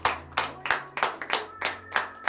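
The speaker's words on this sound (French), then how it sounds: "Donnez l'acclamation à l'Éternel." A congregation at a morning prayer service claps hands in a steady rhythm, about eight sharp, evenly spaced claps over a low sustained tone.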